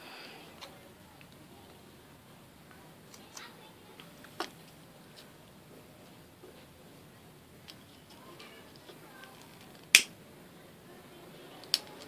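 Sharp scissors snip through leftover macrame cord, giving a few crisp, isolated clicks over a quiet room, with one louder close cut near the end.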